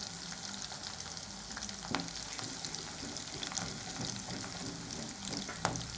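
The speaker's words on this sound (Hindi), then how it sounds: "कड़ी पत्ता थोड़ा अच्छा से फ्राई होने दो" Curry leaves frying in oil while being stirred, a steady moderate sizzle broken by occasional sharp pops and spatula taps, no voices.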